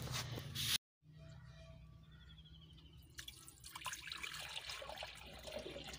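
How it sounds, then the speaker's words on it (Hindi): Water running and splashing as it is poured into a container outdoors, a faint trickle becoming a steadier flowing gush after a short cut, low in level. "इसको नीचे अरे डोल दे, पानी डोल दे"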